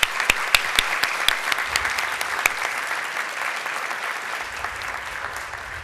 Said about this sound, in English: So let's give them one more round of applause if we could.